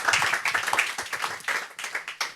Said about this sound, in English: if we could all applaud a very dramatic exit